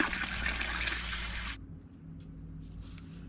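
Water runs steadily from a tap as something is rinsed clean, a loud continuous gush that stops abruptly halfway through, leaving a quiet room with faint drips and small knocks.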